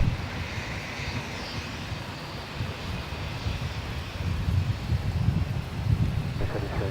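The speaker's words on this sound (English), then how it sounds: "Singapore is a 350-900 series, 8 years old." A Singapore Airlines Airbus A350-900, eight years old, comes in to land on runway 34 at Melbourne Airport. Its engines make a distant, steady roar that swells slightly toward the end, with some wind buffeting on the microphone.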